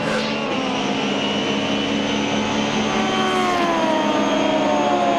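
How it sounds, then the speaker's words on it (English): A Toyota GT3 race car at the SCCA Runoffs screams along the front straightaway from an onboard position, a loud, steady high-revving engine whine with rising harmonics throughout. "Listen to that Toyota."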